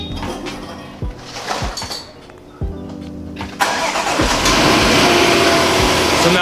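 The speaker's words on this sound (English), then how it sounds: "So now the car is started." A 2015 Range Rover Sport starts by remote: faint clicks and clunks, then the engine cranks and catches, settling into a steady, loud idle that continues to the end.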